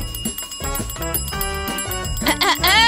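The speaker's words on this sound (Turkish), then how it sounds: "Tamam, zili kullanacağım." A hand bell rings in a quick series of bright metallic strikes, close and fairly loud, lasting about three seconds with no talk over it.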